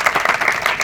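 An audience at a Parshuram Jayanti celebration applauding for Pandit Prahlad Joshi, a brief dense burst of many hands clapping, loud and close, with no pause.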